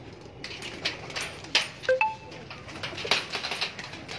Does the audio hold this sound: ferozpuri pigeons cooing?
yes